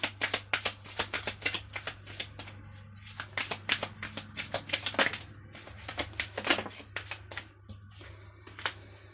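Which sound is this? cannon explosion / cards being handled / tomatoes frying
cards being handled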